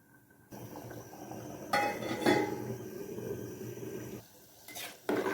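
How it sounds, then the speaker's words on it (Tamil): A utensil stirs rice in a metal pot for Thalappakatti-style dum biryani, giving scattered clinks and scraping knocks against the pot over a continuous, close kitchen background. "அரிசி சேர்த்தோன்னா நல்லா கலந்து விட்டுக்கலாம்"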